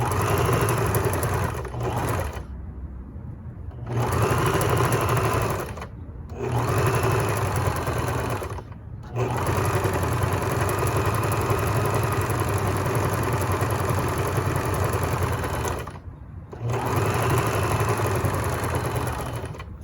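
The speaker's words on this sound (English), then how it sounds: "we're sewing at 1/4 of an inch" Domestic sewing machine stitching a curved neck facing at a quarter-inch seam, a loud close steady motor whir running in long bursts separated by short pauses.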